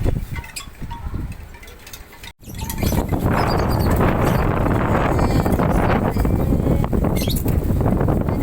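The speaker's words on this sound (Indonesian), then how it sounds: "Hari ini anginnya kencang banget" Storm-force wind blows outdoors around garden plants, buffeting the microphone. After a quieter, uneven start, a sustained loud roar takes over and gusts on steadily to the end.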